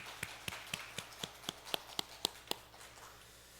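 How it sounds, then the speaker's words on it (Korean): Sparse hand claps from a church congregation during a Sunday morning service, about a dozen sharp, evenly spaced claps that stop abruptly, faint and slightly distant, with no one talking. "우리 안전하게 공사하게 하시고 일하여 주신 우리 하나님께 큰 박수로 영광 올려드리겠습니다."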